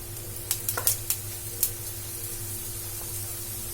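Oil sizzles steadily in a pan as snacks fry, with a few short crackling spits near the start over a continuous low hiss, no voices.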